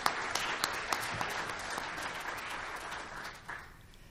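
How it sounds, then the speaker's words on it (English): A crowd at a 2023 Tucson mayoral forum gives a strong round of applause, with dense clapping and a few sharp individual claps that gradually thin and fade toward the end. "give them one more strong round of applause for stepping up for Tucson"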